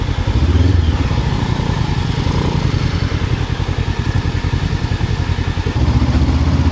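A motorcycle chugs slowly in second gear along a mountain trail, its engine loud and near with a fast, steady pulsing thump and no speech over it.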